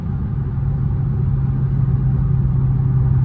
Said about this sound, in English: Y'all hear that Hellcat whine?